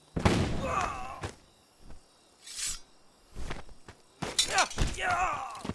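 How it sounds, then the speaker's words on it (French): A flashbang grenade detonates in a video game with sharp, shattering broadband bursts, including a bright crack midway and another loud burst near the end, mixed with voices talking. "Grenade aveuglante"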